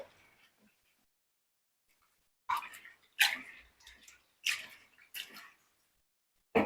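Quiet, intermittent bursts of water sloshing and splashing as sago pearls are rubbed and rinsed, about five short rinsing swishes separated by near silence.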